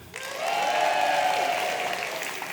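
An audience at a senior gathering breaks into loud, sustained applause mixed with raised, cheering voices, rising quickly and holding steady before easing slightly.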